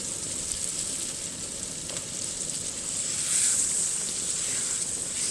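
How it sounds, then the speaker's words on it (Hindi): Potatoes fried with spices in a pan in a village-style kitchen, giving a continuous dense hiss and sizzle that swells slightly toward the middle, close and steady with no talking. "आलूओं को भी थोड़ी देर और मज़ीद भूनेंगे।"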